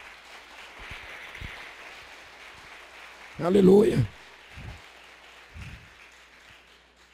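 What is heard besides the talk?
church congregation applauding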